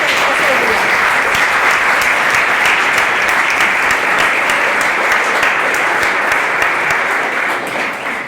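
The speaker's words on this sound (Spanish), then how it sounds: "yo creo que hay que dar un aplauso a los compañeros" Loud, sustained applause from a conference audience honoring colleagues at a feminist academic gathering, an unbroken roar of many hands clapping that fades slightly at the very end.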